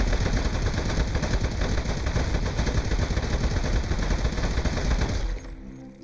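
Rapid, continuous automatic gunfire in the video game Aperture Desk Job rattles loudly and densely for about five seconds, then stops abruptly, leaving quieter game sounds.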